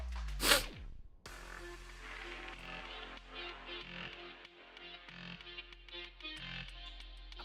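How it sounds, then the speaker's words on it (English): One abrupt, loud sneeze right at the start, a sharp burst followed by quieter room noise and faint background sounds. "I need to sneeze."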